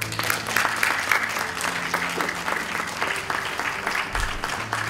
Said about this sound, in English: Please give a big round of applause to those who have supported you.